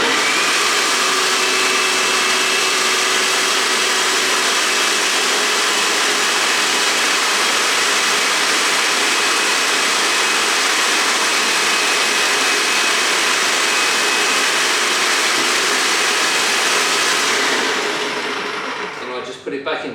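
A loud, steady motorized whine and hiss from a Wagner 350M paint sprayer priming with clean water runs unbroken for most of the stretch, then winds down and stops near the end.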